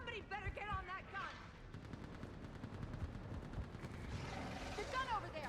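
A mounted gun firing during a battle in Mass Effect 3, rapid bursts of heavy automatic fire and blasts crackling steadily throughout, with shouted voices and a shrill electronic whine breaking through at the start and end.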